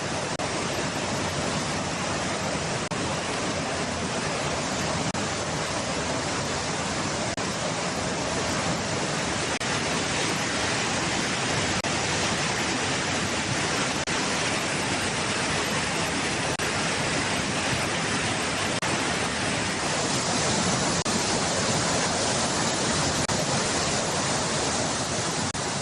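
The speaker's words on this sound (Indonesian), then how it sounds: "luapan air dari beberapa sungai menyebabkan sejumlah wilayah di Jakarta terendam banjir" Floodwater from overflowing rivers rushes steadily through flooded streets of Jakarta, a dense, continuous roar holding level throughout with no talk.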